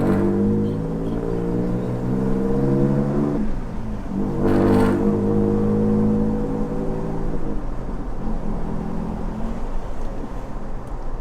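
A Toyota Tacoma pickup fitted with 5.29 gears drives along, its engine and driveline giving a steady, loud drone with a brief harsher surge midway through.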